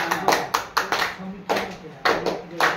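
Children clap their hands together in a classroom during a primary-school maths lesson, a run of several short sharp claps with irregular spacing and fairly close and loud, over faint room noise.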